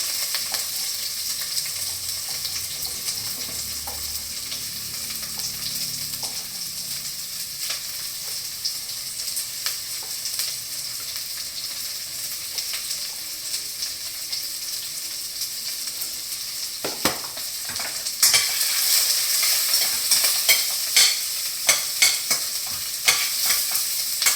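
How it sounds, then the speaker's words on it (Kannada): One large onion frying in a pan until browned, a constant soft sizzle with repeated scraping stirs up close, growing louder and brighter toward the end, no talking. "ಇದರಲ್ಲೀಗ ಈರುಳ್ಳಿನ ಫ್ರೈ ಮಾಡ್ಕೊಳ್ಳೋದು."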